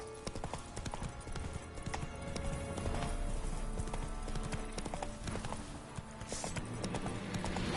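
Horse hooves clip-clopping in The Witcher 3 as Geralt rides through Velen, a brisk steady gallop close and loud under a busy game soundscape.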